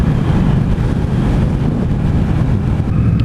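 A 2016 Indian Scout motorcycle cruising in sixth gear, a loud steady engine rumble mixed with heavy wind buffeting at the microphone, continuous and unbroken.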